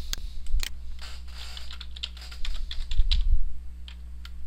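Keys on a computer keyboard clack in short irregular bursts as a password is typed, with a steady low electrical hum underneath and no talk.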